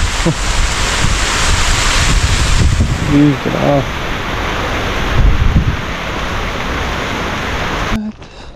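Strong wind roars steadily against the microphone, a loud continuous buffeting with a brief voice partway through before it cuts off abruptly.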